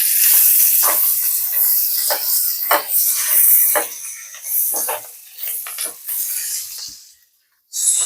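Vegetables and mushrooms sautéing in a pan over high heat with a little salt, a steady loud hiss and sizzle broken by repeated stirring scrapes, fading briefly near the end.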